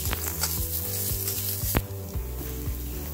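Finely chopped onion and curry leaves fry in hot oil for a Kerala kadala curry, a close, loud crackling sizzle with scraping stirs of a spoon at a steady rhythm, ending with a sharp clatter, no voices.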